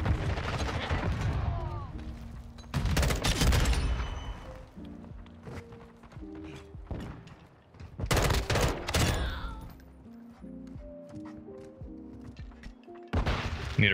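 Bursts of M16 rifle fire in a video game, two loud volleys a few seconds apart with a third starting at the end, over a busy in-game soundscape of footsteps and movement.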